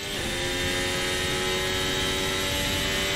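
An Aston Martin F1 car engine in the Assetto Corsa video game holds a loud, steady, buzzing high-revving drone, close and continuous throughout with no talk.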